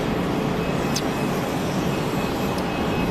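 A Pilatus PC-24 business jet at Geneva Airport gives off a broad, steady engine roar that stays loud and constant throughout, with no voices heard.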